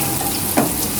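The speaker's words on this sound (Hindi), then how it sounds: "इसको हम फ्राई करेंगे।" Raw mango chutney paste with vinegar frying in a pan, a steady close sizzle with one brief stirring scrape near the middle, no talk.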